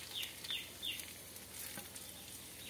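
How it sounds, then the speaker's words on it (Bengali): Bay leaf and chili with black cumin seeds sizzling in hot oil and given a quick stir, a faint steady crackle with a few high chirping spits and soft spoon scrapes. "তেজপাতা লঙ্কা দিলাম, একটু নেড়ে নিলাম"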